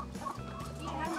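Chickens cluck on a farm keeping a heritage Lohmann strain with turkeys, a short burst of close, overlapping fowl calls with faint talk underneath.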